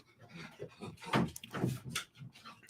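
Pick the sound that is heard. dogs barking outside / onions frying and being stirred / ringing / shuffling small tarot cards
dogs barking outside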